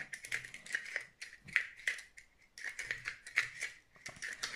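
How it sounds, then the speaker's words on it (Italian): Scissors bore a hole into soft wood for a homemade yo-yo, a quiet series of scraping, rasping cuts in uneven bursts with short pauses, close up and without talk. "in questo caso io lo sto facendo con le forbici perché tanto come dicevo è molto tenero"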